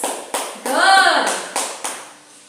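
Classroom students clapping for themselves during an English lesson, several sharp bursts of hand claps in a room with a voice talking over them in the middle.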